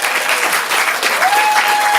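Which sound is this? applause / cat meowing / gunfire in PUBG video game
applause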